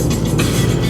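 A car driving along a road on Fuerteventura, a loud, steady engine and tyre rumble heard from close by inside or near the vehicle, unbroken for the whole short moment.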